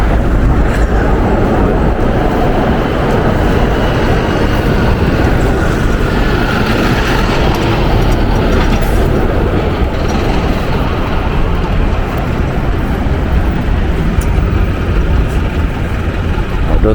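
Ride aboard an elevated train near the Gotanda River, a loud continuous rumble and roar of the carriage in motion with steady broadband noise and faint rattles throughout.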